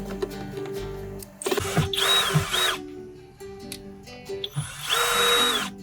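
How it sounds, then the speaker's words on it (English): A power drill drives screws into hinges on storage furniture in a small home: two whirring bursts of a second or so each, close and loud, with brief clicks and handling noise between. "Get those screws and screw those hinges"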